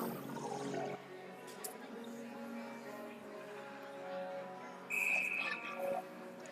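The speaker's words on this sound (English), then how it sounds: "And the whistle will go." A referee's whistle sounds at an ice hockey game between the Metcalfe Jets and the Morrisburg Lions: one short, sharp, fairly loud blast over arena murmur and a commentator's voice.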